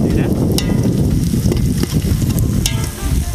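Onions sautéing in a pan for biryani cooked outdoors with friends, a loud continuous crackling sizzle with scraping stirs, close up, with voices faintly mixed in.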